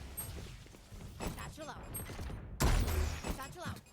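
A grenade in Valorant on the Ascent map goes off with a sudden loud, heavy boom partway through, after quieter footsteps and clicks, and the blast's rumble carries on to the end.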